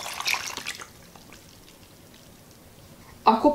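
Water is poured into a pot with tomatoes, pepper and salt for a vegan tomato soup, a splashing pour at the start that fades into quiet, then a brief louder splash or clatter near the end.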